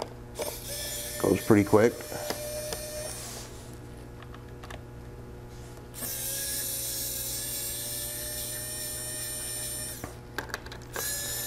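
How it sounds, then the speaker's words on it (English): A small cordless screwdriver backs Phillips screws out of a Lenovo ThinkPad E15 laptop's bottom case, giving long steady motor whirs with a short pause between runs, while someone briefly talks over it near the start. "cordless screwdriver here. Just got to get them unthreaded all the way."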